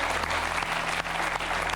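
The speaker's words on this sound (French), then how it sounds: "Applaudissements pour Timothée Vienne." A studio audience applauds on a French television show, dense steady clapping heard close and loud throughout the short burst, with no talking.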